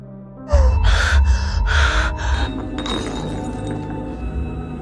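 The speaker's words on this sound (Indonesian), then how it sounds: "Dan setelah selesai, Millie melemparkan pecahan piring itu ke balik pintu." Broken plate shards clink and rattle as they are thrown behind a door in a tense domestic scene, a loud burst of glassy clattering and tumbling fragments over roughly two seconds, settling into a quieter rustling tail.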